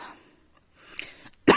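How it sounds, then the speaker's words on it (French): A woman gives a single sharp, loud cough near the end, after a stretch of faint background murmur. "Qui c'est qui a demandé à ce que je tousse?"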